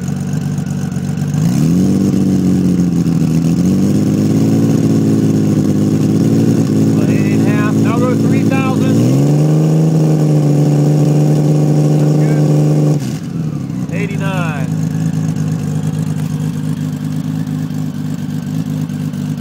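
A 2000 Honda Valkyrie motorcycle with a modified stock exhaust revs up from idle, holding a steady loud engine drone, stepping to higher rpm twice and then dropping back, with brief talk heard near the revs.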